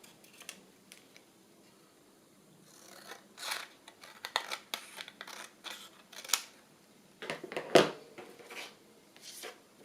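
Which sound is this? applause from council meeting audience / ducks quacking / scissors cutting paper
scissors cutting paper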